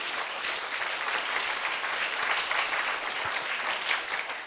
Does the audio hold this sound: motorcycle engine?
no